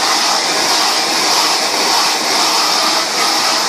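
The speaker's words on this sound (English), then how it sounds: "I use the blow dryer to help dry the hair and also straighten the ends" A hair blow dryer runs steadily and loudly while drying and straightening the ends of hair, a constant close whooshing roar with no break.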